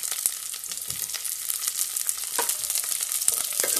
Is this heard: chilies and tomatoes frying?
yes